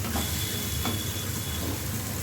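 Lentils fry in a pan for muri ghonto, giving a steady close hiss with a faint tonal whine and a couple of soft scraping stirs and no talking.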